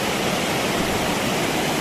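Broadband roar of the Parvati waterfall on the Shrikhand Kailash trek in the Himalayas, a steady dense hiss of falling water with no pauses or voices.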